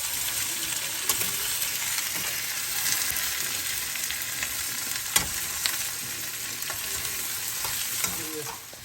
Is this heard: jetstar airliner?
no